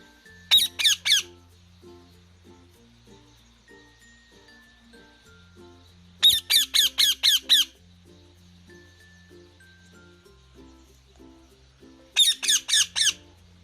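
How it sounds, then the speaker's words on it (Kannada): A green parrot with a red beak squawks in three separate bursts of rapid, shrill, close calls spaced several seconds apart over gentle background music. "ಗಿಳಿಗಳು ಕೆಂಪು ಕೊಕ್ಕು, ಹಸಿರು ಮೈ ಬಣ್ಣವನ್ನು ಹೊಂದಿವೆ."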